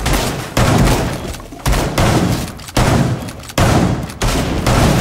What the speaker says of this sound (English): Stop shooting the wall